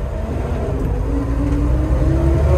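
A 1976 Toyota Land Cruiser FJ40 engine pulls through its low gears, a loud close drone that rises steadily in pitch from the cabin without speech.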